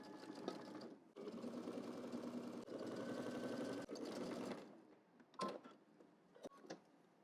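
A sewing machine stitches a double-breasted jacket seam at a 5/8 inch seam allowance down to the hem, running in long steady bursts with a short pause, then quieter fabric handling at the end.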